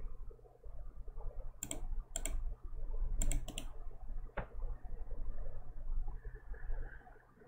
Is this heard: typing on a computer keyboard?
yes